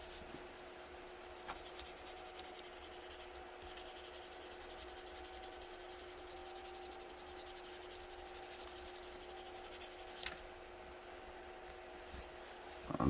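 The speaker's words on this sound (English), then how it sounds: "grab yourself a sanding stick. This is a 2400 grit" Light, steady rubbing of a fine 2400 grit sanding stick smoothing knife marks on a Tamiya Mazda RX-7 R1 plastic model kit, close and soft, continuing evenly without talk.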